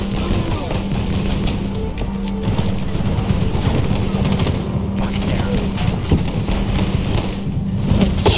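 Sustained machine gun fire in the video game Medal of Honor (2010), a dense, continuous rattle of rapid shots with low thuds and booms mixed in, loud and close throughout the battle scene.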